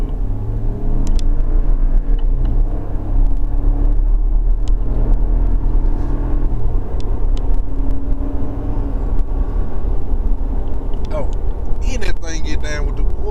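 A lifted 2020 Ram pickup on big tires rumbles steadily with a loud, close engine note that swells and settles, and there is some wind buffeting.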